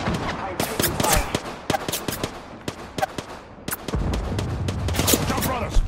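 Close, loud Apex Legends gunfire from a Gibraltar ranked match, sharp shots crackling in uneven bursts and rapid volleys, with a heavier rumbling stretch partway through and a voice talking over it.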